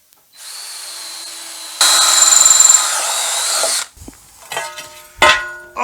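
A power drill bores pilot holes while building a homemade chicken plucker from a washing machine: a close, loud whirring run that climbs to a higher, harder pitch midway, then stops, followed by knocks and clatter.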